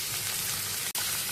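Onions frying in a pan while being stirred for a homemade Chinese noodle dinner, a steady hiss of sizzling oil with a brief scrape near the end, close and alone without talk.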